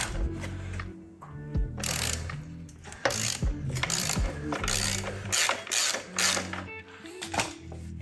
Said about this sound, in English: 27 millimeter nut. I'm gonna go ahead and loosen up.